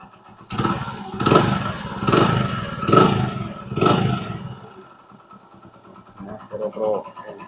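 A Hero Eco Deluxe motorcycle engine idles with a rough, pulsing chug for several seconds after ignition, then winds down as quieter voices continue.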